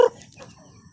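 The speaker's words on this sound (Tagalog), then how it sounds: "Ayan ang mga ating mga manok." Backyard chickens in a rural Philippine yard, a short cluck at the start followed by faint soft clucking, close but quiet.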